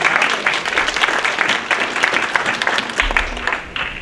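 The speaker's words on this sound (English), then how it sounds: "That deserves an applause." Applause from an audience at a talk about psychiatric inmates in Texas prisons: a dense, steady patter of many hands clapping, near and fairly loud, lasting throughout with no one speaking.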